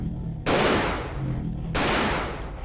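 Two loud, sharp gunshot blasts from the video game Alone in the Dark: The New Nightmare, the second about a second after the first, each with a booming tail.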